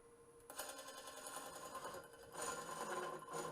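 A Woodcut Bowlsaver Max4 lathe spins up to about 600 RPM, giving a steady mechanical whir and hum that starts abruptly after a short quiet moment and grows somewhat louder toward the end, with no talking.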